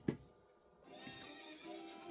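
Epona, the orange horse in The Legend of Zelda: Ocarina of Time, lets out a single clear whinny with a sharp onset, followed by softer breathy horse sounds and quiet game ambience, with no talking.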